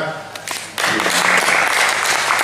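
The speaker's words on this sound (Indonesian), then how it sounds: "tepuk tangan" Audience applause at a kite-making workshop rises suddenly after a quieter, voice-filled moment and continues as a dense, close burst of clapping.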